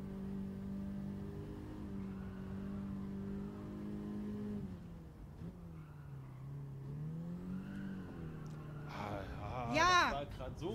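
A race car engine drones and revs in Gran Turismo 7 on PS5, a sustained tone that dips and rises through a corner before sharp rising revs and tire noise near the end.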